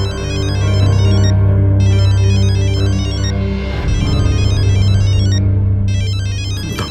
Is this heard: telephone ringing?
yes